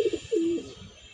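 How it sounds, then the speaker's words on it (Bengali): A racing pigeon gives a short, close coo, a soft throaty warble rising into a sustained low hum, heard clearly and alone. "আর এই একটি কবুতর মাশাআল্লাহ 6 নাম্বার কবুতর।"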